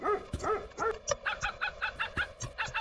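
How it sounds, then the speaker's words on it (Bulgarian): Several dogs in a video game bark in a quick, repeating series of sharp yaps and woofs, loud and close, with no talk over them. "Това са кучета, да ги унищожим."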